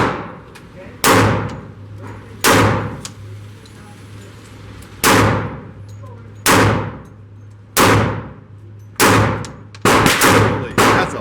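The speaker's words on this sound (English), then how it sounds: "We're going to take some shots at this target." Shots from a Hi Point JXP 10mm pistol with an optic mount ring out at a target about 10 yards away. Nine or ten loud, sharp reports come at an uneven pace, the last few in quick succession.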